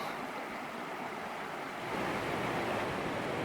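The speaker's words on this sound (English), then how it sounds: "Here's the waterfall through there." The waterfall at Harper Creek in Pisgah National Forest, North Carolina, pours in a forested canyon, giving a steady, broad rushing hiss that stays even and fairly faint, with no voices.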